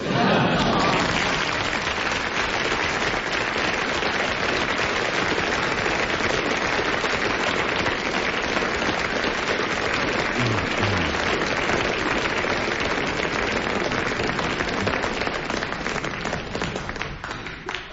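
Sustained, loud studio audience applause at a radio panel show, dense clapping from a large crowd that holds steady for the full length and tapers slightly at the end.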